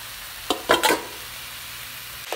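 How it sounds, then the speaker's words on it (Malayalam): A few quick scraping stirs in a frying pan of wilted chopped cabbage and mixed leaves, three short strokes close together over a steady background hiss. "ഇലകളെല്ലാം ചേർത്ത ശേഷം നല്ലതായിട്ട് ഇളക്കുക."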